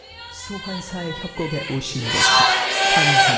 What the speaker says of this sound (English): Crowd really getting into it now.